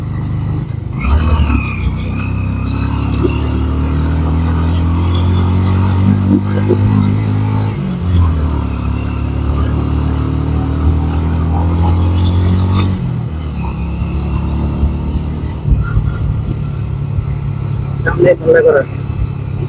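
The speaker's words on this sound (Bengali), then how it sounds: "আমার বাইকে উঠতে একটু কষ্টই হচ্ছে।" A motorbike labours up a steep hill road in the Bangladeshi hill tracts between Ruma Bazar and Boga Lake, its engine droning loud and steady with shifting pitch. Rumble and wind fill the clip, and brief talk breaks in near the end.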